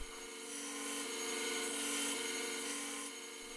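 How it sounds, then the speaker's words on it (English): A KMG belt grinder cleaning up the edge of a Damascus steel knife, giving a continuous close abrasive hum and rasp that swells slightly and then eases off. "Using the classic KMG grinder to complete this task."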